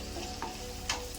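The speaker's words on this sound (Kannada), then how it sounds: "ಈರುಳ್ಳಿ ಎಲ್ಲ ಸ್ವಲ್ಪ ಫ್ರೈ ಮಾಡ್ಕೊಂಬಿಡೋಣ" Onions frying in a pan, a steady low sizzle with a couple of faint clicks of stirring, quiet and without talk.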